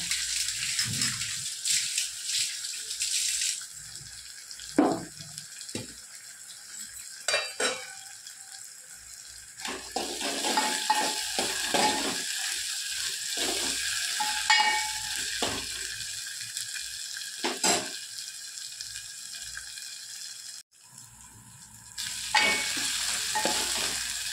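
Ingredients frying in a pan toward a golden colour for Telugu perugu charu, a steady sizzle with repeated spoon stirring and scraping against the pan, close and fairly loud, with brief quieter gaps.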